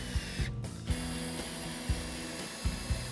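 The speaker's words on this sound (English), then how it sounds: "install the screws" Screws are driven into wood while building a potting table, giving a run of short, sharp ratcheting clicks and bursts at an uneven pace, close and fairly faint with no talking.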